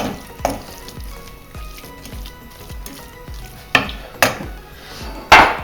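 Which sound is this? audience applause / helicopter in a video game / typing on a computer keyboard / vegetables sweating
vegetables sweating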